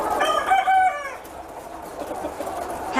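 Chickens on an Austrian farm, a rooster crowing loudly up close followed by softer clucking and murmuring of the flock.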